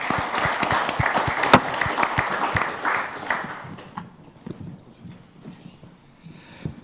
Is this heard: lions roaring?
no